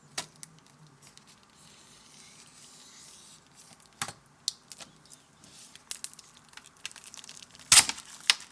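Keys pressed on a retro beige Casio fx-83GT X calculator give sparse, sharp little clicks, irregularly spaced over a quiet background, with one louder snap near the end.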